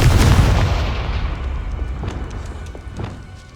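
A Confringo fire spell explodes in the video game Hogwarts Legacy: a loud, booming blast that hits at once, then rumbles and fades over a few seconds, with faint crackles in the tail.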